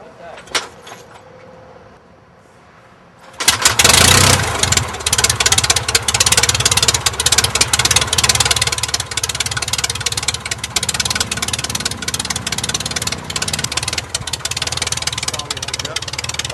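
A light aircraft's piston engine fires after hand propping, jumping abruptly from quiet to a loud, steady close-up roar that holds to the end, with brief talk before it catches.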